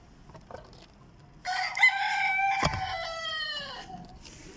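Rooster crows loudly and close, with hens clucking quietly around it at a backyard coop where a hen sits brooding on eggs beside her chicks at dusk.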